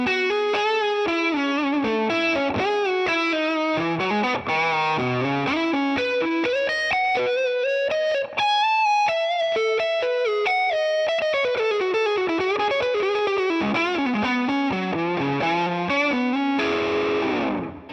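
An electric guitar through a Tube Screamer overdrive pedal plays a melodic run of sustained, gritty notes and bends, loud and continuous, ending in a fading chord.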